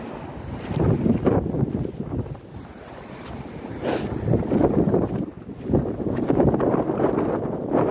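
Cold wind gusts past the microphone on a New York City street during an extreme cold warning, a loud continuous broadband rush that swells and dips in waves with no talk.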